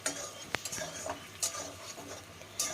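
A spoon stirs turmeric powder into rui fish curry in a pan, giving soft scraping and a few sharp clinks of utensil on metal, with a faint sizzle beneath.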